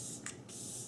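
A Glow Recipe Watermelon Glow Ultra Fine Mist bottle lets out a soft, close hiss of spray, briefly interrupted by a tiny click of the nozzle before the mist resumes, with no voices.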